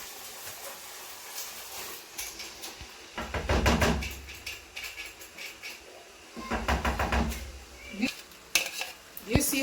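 Blended tomato and carrots go into a cooking pot in bursts of clattering metal, scraping and spoon knocks, close by, separated by quiet kitchen pauses.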